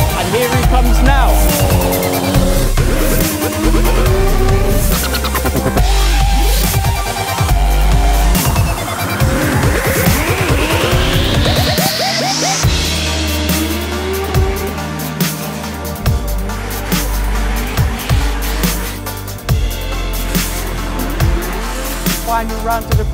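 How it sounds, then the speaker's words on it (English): Mini cars drifting at a British Drift Championship round on Madeira Drive in Brighton, with loud continuous engine roar and rising revs, rough tire squeal, and a commentator talking over the cars. "it's amazing just to see modern cars go around the motor circuit"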